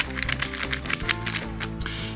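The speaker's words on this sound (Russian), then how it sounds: "Ну, в принципе, и без этого кубик вращается замечательно," A YuXin HuanLong 3x3 speed cube is turned rapidly, making a fast, continuous run of light plastic clicks and clacks, close and fairly quiet, with no one talking.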